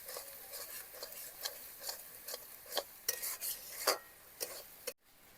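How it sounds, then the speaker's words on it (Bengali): Dry spices being stirred in a pan for a cauliflower and meat curry, giving soft repeated scraping strokes over a light sizzle, close but quiet and with no talk. "শুকনো মশলাগুলো দিয়ে কয়েক সেকেন্ডের জন্য একটুখানি নেড়ে নেব"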